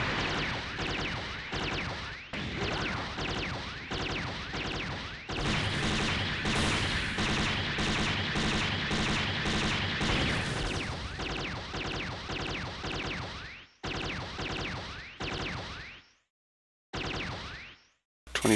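Rapid gunfire bursts from the slow-moving S-rank Gadelaza in SD Gundam Online, loud and continuous with short pauses and a sudden drop-out near the end.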